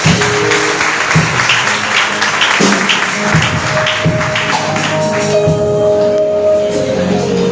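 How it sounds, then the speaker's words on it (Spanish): Church congregation claps during a service, loud close rhythmic hand claps and taps with thumps, continuing for several seconds and thinning toward the end. "Fuerte el aplauso"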